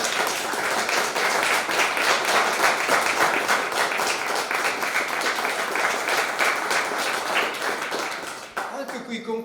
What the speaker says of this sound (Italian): E poi andiamo a Anna Maria Di Filippo, soprano, bello applauso.